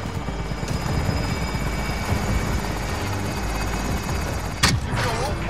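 Enemy attack helicopter in Call of Duty: Modern Warfare, a loud continuous chopping rotor drone filling the whole stretch, with a brief sharp crack near the end.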